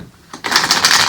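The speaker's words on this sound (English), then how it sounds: "so it's hard for me to shuffle these cards." Tarot cards shuffled by hand with freshly done nails, a quiet start, then a loud, close burst of rapid, riffling card flutter.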